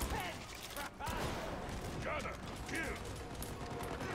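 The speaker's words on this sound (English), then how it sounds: "I need to reload" A weapon reload in Warhammer 40,000: Darktide plays as mechanical clicks and ratcheting clacks under constant gunfire and battle noise, while a voice talks over it.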